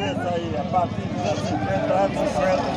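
Sheep and goats bleat at a busy Sunday animal market in Vila Jerimum, Pernambuco. Their wavering cries mix with nearby crowd chatter and someone talking close by.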